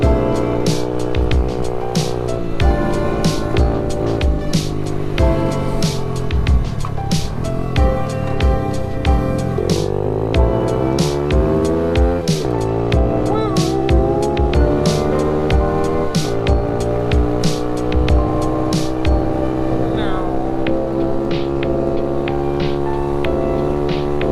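An SSR pit bike engine revs steadily under load while riding, a continuous loud motor drone whose pitch rises and falls through the gears and holds for the whole stretch with no one talking.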